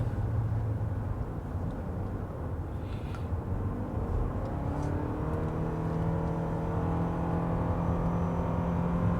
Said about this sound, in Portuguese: Aqui entrou todos os motores elétricos tracionando o carro, junto com o motor a combustão